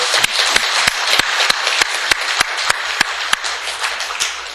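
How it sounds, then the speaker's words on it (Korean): A church congregation applauds a birthday during a sermon, with sharp, scattered claps ringing out over a soft wash of clapping. "박수 한번 해주시죠."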